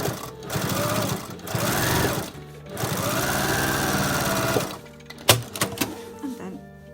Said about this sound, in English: I simply stitch it first, very near the first seam.